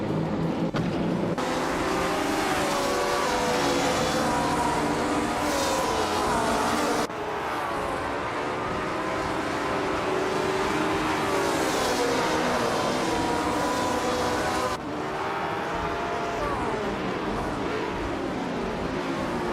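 Dense, continuous engine roar from a pack of racing cars in a video game race, with overlapping revving tones rising and falling as cars jostle, loud and steady throughout with brief dips at gear changes.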